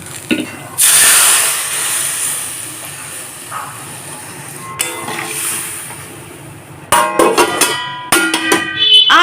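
Water poured into a hot pan of bata fish curry with potatoes, salt, turmeric and chilli powder, setting off a loud hissing sizzle that fades into bubbling, followed by clattering kitchen noises.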